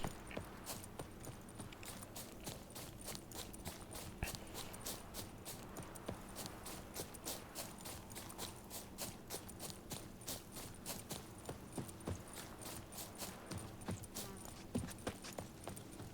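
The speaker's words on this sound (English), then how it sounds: "Even a horse drops if you ride it at a constant gallop." A horse's hooves beat in a steady, rapid clip-clop rhythm while galloping in The Witcher 3, faint and continuous throughout, with no talk.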